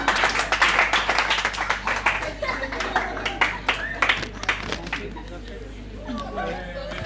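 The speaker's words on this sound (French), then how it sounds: "On applaudit pour les candidats." Audience at a school World Book Day award event clapping for the contest candidates, dense rhythmic applause that thins out over several seconds, with chatter and a voice beneath.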